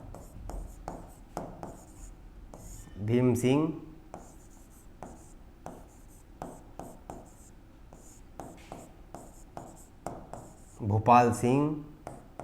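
Scratchy writing strokes on a board during a Hindi classroom lesson on Rajasthan's unification, running steadily under a teacher's close, clear speech.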